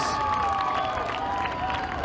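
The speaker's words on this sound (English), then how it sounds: "Give him a round of applause." A speedway crowd applauds and cheers the young winner of a RUSH Late Model feature at Stateline Speedway, a steady wash of clapping heard from a distance with a tone ringing over it.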